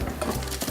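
A white frying pan being picked up and handled in a home kitchen while cooking mushrooms, giving a few light metallic clinks and knocks close by with no speech.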